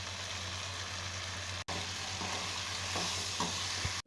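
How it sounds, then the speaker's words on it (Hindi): Fresh vegetables for veg biryani sizzle steadily in a hot pan as they are stir-fried, a close, continuous frying hiss broken by a few scraping stirs of the spoon. "ये बहुत ज़्यादा ताज़ी सब्जी है तो बहुत ही जल्दी ये भुन करके तैयार हो जाएगा, पक करके।"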